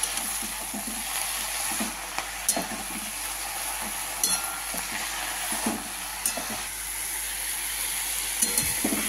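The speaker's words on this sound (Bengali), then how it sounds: "এবার খালি ভাজা ভাজা হবে, আর কিচ্ছু দেওয়া হবে না।" Oil sizzles steadily as leafy greens with turmeric fry in a pan, a constant crackling hiss with occasional soft clinks of stirring.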